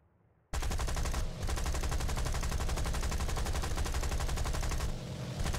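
Twin .303 nose guns of a Beaufort bomber in War Thunder hammer out a fast continuous stream of shots, loud and up front, pausing briefly once before resuming, with no speech.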